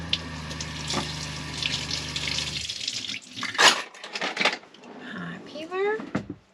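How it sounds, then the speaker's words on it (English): Tap water runs steadily into a sink while a carrot is rinsed beneath it, then the flow stops and faint handling noises and kitchen clatter follow, with a person talking briefly in a camper van kitchen. "Carrot, I'm gonna rinse it."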